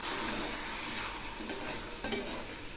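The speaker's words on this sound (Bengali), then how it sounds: "পোস্ত বাটা দিলাম, সেজন্য আবার নেড়ে দিচ্ছি।" Bottle gourd curry with poppy seed paste stirred in a hot pan, a soft continuous sizzle broken by a couple of sharper scraping strokes of the spoon.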